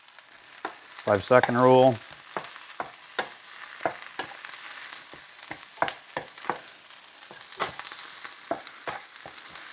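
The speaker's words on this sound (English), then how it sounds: "Give it a couple of stirs." Food sizzles steadily in a lidded pan on a backyard breakfast cook, while a utensil scrapes and clinks through it in a series of sharp, irregular stirs. Someone speaks briefly near the start.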